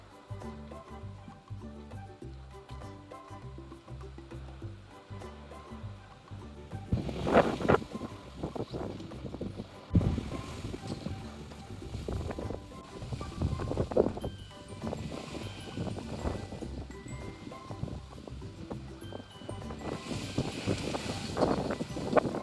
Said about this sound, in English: It's such a crazy windy day